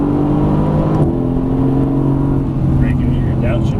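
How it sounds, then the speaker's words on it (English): Mercedes-AMG GT S accelerating hard out of a corner on a racetrack in Las Vegas, a loud steady engine drone held close throughout the few seconds, with someone talking over it. "And hard on that throttle coming out."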